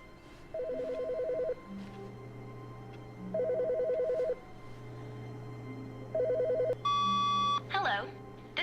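A desk telephone rings in The Stanley Parable Ultra Deluxe, three evenly spaced electronic trills over a low room hum, followed by a short burst of higher tones and a click as it is picked up.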